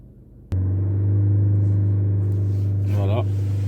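A diesel Citroën C4 catches and idles during particulate filter cleaning, then its engine climbs in revs on its own as a strong steady drone builds, nearby and loud, with a brief rising surge near the end.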